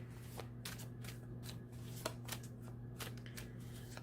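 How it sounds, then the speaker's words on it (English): Tarot cards being shuffled and dealt make soft, quiet, repeated riffling and flicking sounds in a close, steady rhythm over a low background hum. "So I'm just throwing out some more cards for further clarification."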